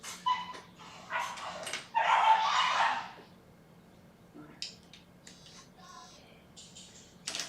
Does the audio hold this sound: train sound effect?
no